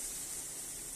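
Water poured into spice paste frying in a pan for a fish curry, a brief, steady loud sizzling hiss with no voices.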